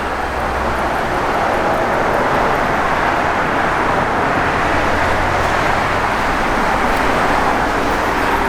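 A 1968 Ford Mustang's 351 V8 with a Holley four-barrel carburetor, Edelbrock Performer intake and AFR aluminum heads idles steadily nearby, a constant deep rumble with a broad hiss and no speech over it.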